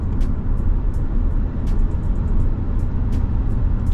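Steady, loud engine and road drone from inside a car accelerating on the road while shifting up through the gears toward fourth, fifth and sixth, with faint ticking clicks scattered over the rumble.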